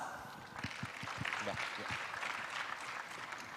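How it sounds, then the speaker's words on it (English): Conference audience at an international big data event clapping as a panel moderator is introduced, a faint, thin patter of scattered hands heard at a distance, with a few heavier thumps like footsteps underneath. "Big applause."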